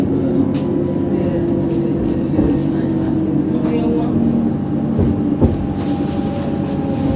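Munich tram line 20 riding from Karlsplatz to Moosach, with a steady loud rumble of the moving car and occasional rail clacks and knocks throughout.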